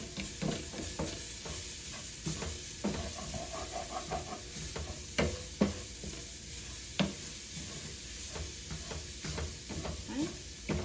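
Arborio-style rice toasts in a pan for a leek and gorgonzola risotto, a soft sizzle broken by repeated scraping stirs and small clinks, close and fairly quiet.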